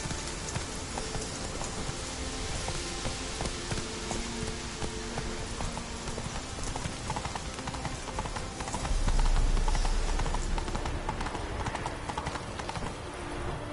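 Roach the horse clip-clops along at a steady fast pace in a video game, the continuous hoofbeats heard close under a dense wash of rain-like ambient noise that swells midway through.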